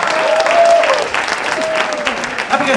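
Audience applause at a live stage show, a steady, dense burst of clapping filling the hall throughout.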